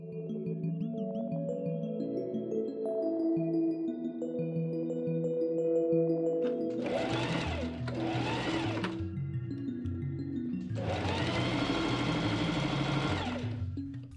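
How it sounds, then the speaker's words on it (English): A sewing machine stitches a linen French seam in several bursts of rapid mechanical whirring, near and clear, with quiet music playing underneath and no talking. "I trim, fold to the inside, and machine sew my French seam up."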